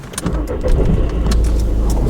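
A car engine turns over and catches, then settles into a steady, loud low rumble at close range with a faint jingle of keys near the start, no talking.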